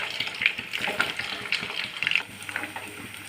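Marinated chicken pieces frying in hot oil for chicken fried rice, a steady bubbling sizzle with small crackles and pops, close and moderately quiet.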